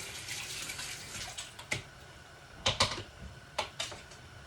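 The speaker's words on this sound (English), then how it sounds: "Let me rinse this one off." Tap water running steadily while a spaghetti spoon is rinsed in a kitchen sink, faint hissing flow with a few light clinks and knocks, no talk.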